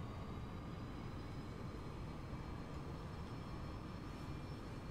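Airliner engines roaring in the X-Plane 11 flight simulator, a loud, steady, unbroken drone with a thin high whine running throughout.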